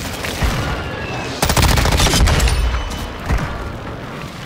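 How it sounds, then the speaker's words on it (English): Mortar strike explosions in a video game firefight, a cluster of heavy booming impacts with rapid gunfire crackling around them, loud and dense, then a second blast near the end. "Friendly mortar strike inbound."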